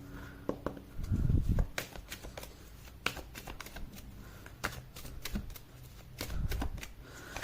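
Tarot cards are shuffled close up in a series of crisp riffling bursts and sharp snaps, loudest early on and recurring irregularly over a quiet background.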